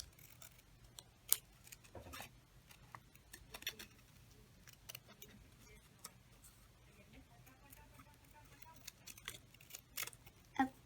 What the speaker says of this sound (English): I got the scissors, so let's start cutting